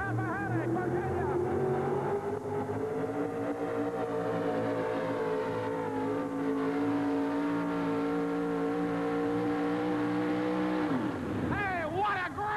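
A Chevrolet truck engine revving hard while pulling a sled at a truck pulling event, a loud sustained roar with slowly climbing pitch that drops off sharply near the end, under an announcer's voice.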